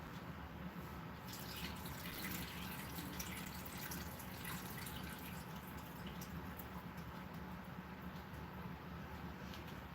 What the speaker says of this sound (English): I'm going to go ahead and drain my mixed vegetables